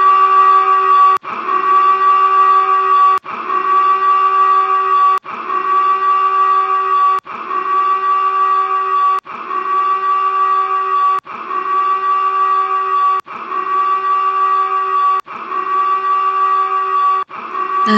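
A SCADA animation sounds an alarm as a steady electronic buzzer tone, loud and alone, with brief gaps every two seconds giving an even repeating rhythm.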